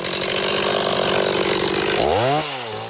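A chainsaw runs steadily at high revs while Christmas trees are felled, then its pitch swoops down and back up as the throttle eases near the end, loud and close with no talking.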